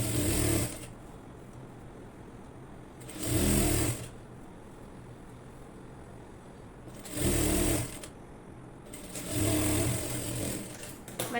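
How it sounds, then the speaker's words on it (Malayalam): A sewing machine stitches the side seam of a simple nightie in four separate bursts of loud, close whirring, each lasting about a second. Quiet handling noise fills the pauses between them. "1 ഇഞ്ച് തയ്യൽ തുമ്പ് വിട്ടതിന് ശേഷം സൈഡ് സ്റ്റിച്ച് ചെയ്ത് എടുക്കുക."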